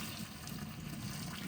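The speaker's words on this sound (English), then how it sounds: "I am just going to drain these out." Hot water from a pot of boiled eggs pours out in a steady, gushing splash, fairly quiet and close, with no talking over it.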